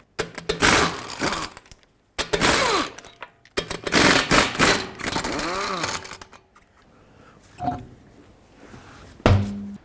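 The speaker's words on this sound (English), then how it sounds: "With a 22mm socket, remove all 5 lug nuts and then pull the wheel off." An impact wrench removes the lug nuts from a 2010-2017 Chevrolet Equinox wheel with a 22mm socket, sounding in several loud, close bursts of rapid hammering whir separated by short pauses, followed by faint clinks.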